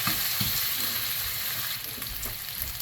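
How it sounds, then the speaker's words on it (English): Fat rendering out of meat in a pan over medium-high heat for chuckwagon beans, crackling to crispness as a loud, close, steady sizzle with light stirring scrapes and no speech. "I'm just trying to render as much of the fat out as I can"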